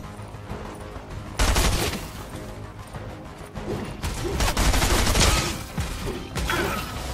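Combat SMG fire in Fortnite Chapter 2 Season 3: repeated loud, close bursts of rapid automatic shots mixed with impact crashes and mechanical clatter, with brief lulls between volleys.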